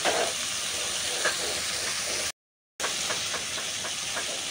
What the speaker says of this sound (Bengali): আস্তে আস্তে উল্টায় পাল্টায় দিতে হবে মাছগুলো পেঁয়াজগুলো যেন সব কিছুই ভাজা ভাজা হয়